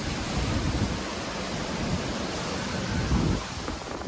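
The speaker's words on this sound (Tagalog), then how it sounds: "Sa Gulf of Mexico, umabot sa halos 30 talampakan ng alon habang papalapit ang bagyo sa lupa." Huge storm waves in the Gulf of Mexico, nearly 30 feet high as a hurricane nears land, make a loud, steady roar of surf and wind, broad and unbroken, with no voices.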